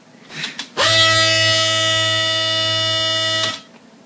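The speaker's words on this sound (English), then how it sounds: "And this was my ice double electric razor." A loud, steady electric buzz of an Ice Double electric razor running for about three seconds, starting abruptly and cutting off, close to the listener.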